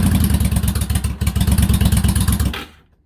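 A 2004 Yamaha V-Star 1100 motorcycle, sitting unused for a while and started cold on choke, runs with a loud, lumpy, rapid-pulsing engine note close by, then abruptly cuts off and falls silent near the end.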